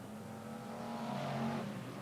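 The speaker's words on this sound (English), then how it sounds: "The rest of the cars coming through." BriSCA F1 stock cars race past at Kings Lynn stadium, a steady engine roar swelling and fading slightly as the pack comes through, heard from trackside without talk.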